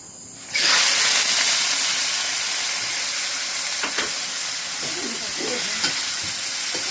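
Asparagus stir-fried with oyster sauce in a hot wok sizzles loudly and steadily close up, with a few scraping stirs of the spatula and no talking.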